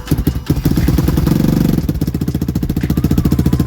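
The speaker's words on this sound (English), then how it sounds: "this is a cold start with the 300." A Lifan KP Mini 300 motorcycle with a swapped ZS175FMN 4-valve engine fires up from cold on choke, a loud, close, rapid single-cylinder thumping that settles into an uneven fast idle.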